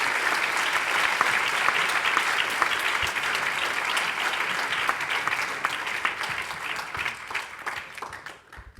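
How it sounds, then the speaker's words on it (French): An audience applauds pianist Jacques Gambra at a cinema festival music lesson, with loud, dense clapping from many hands that stays strong for several seconds and then thins and fades toward the end. "Jacques, applaudissez-le."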